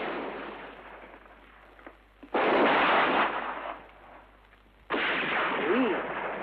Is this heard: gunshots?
yes